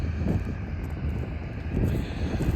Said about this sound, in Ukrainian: Перепрошую відразу за вітер